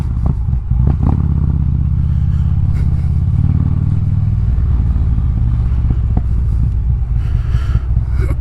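A motorcycle engine idles loud and close at a 7-Eleven stop, a steady deep throbbing rumble that holds for the whole stretch, with a light clatter near the start and no voices.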